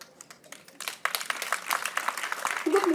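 Audience applause at a Janapada Sambhrama folk festival, starting as scattered claps and swelling after a second into steady, fairly loud clapping from a crowd.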